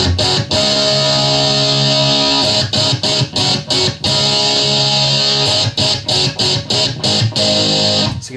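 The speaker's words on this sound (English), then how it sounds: "This pedal works really great for like a solo boost, not just for trying to get some really grinding metal rhythm tones" Electric guitar run through a Zvex Box of Metal distortion pedal, playing thick, saturated sustained chords with choppy gated breaks and stop-start strums, loud and close with no talking.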